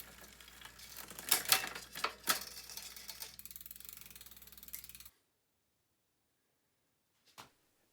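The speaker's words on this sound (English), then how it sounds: "I can turn a crank arm and manually manipulate the rear derailleur" Turning the crank arm on a Trek 2.3 road bike while shifting the rear derailleur produces close, rapid ratcheting clicks and chain whir for about five seconds, then silence broken by one brief click.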